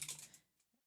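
Quick burst of computer keyboard typing while entering Java code, a close flurry of light key clicks that fades out within a second.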